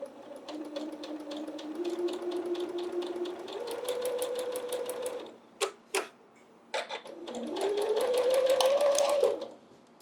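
Sewing machine stitching in bursts, a fast rhythmic whir and tick rising in speed, pausing with a few clicks, then running again close by.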